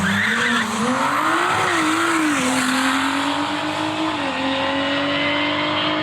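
A budget supercar-killer car at quarter-mile drag races roars past with a loud, sustained engine note that rises and dips in pitch as it revs, joined by tire squeal, heard alone without talk.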